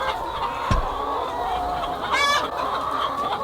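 Chickens cluck softly throughout a pasture-raised laying house, with a steady murmur of birds, a sharp close cluck and a brief louder squawking call over the low flock chatter.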